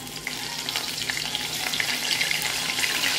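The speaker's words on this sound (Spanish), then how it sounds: "Aquí tenemos las presas de pollo y las vamos a sellar en aceite caliente" Chicken pieces sear in hot oil with a loud, dense, continuous sizzle that stays close and steady throughout, with no voices over it.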